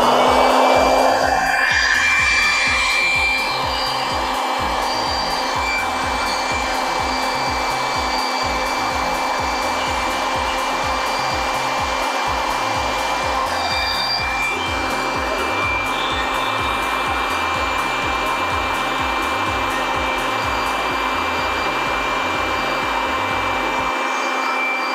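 Cheap electric blower used with a touchless car-washing jet cleaner, running at full power as a loud, steady, continuous whooshing roar with a constant motor whine, close by throughout.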